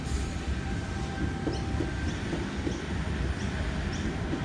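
A Sydney C-set train arriving at platform 5 of Redfern Station, heard as a steady, distant rail rumble with faint wheel squeals over continuous station noise.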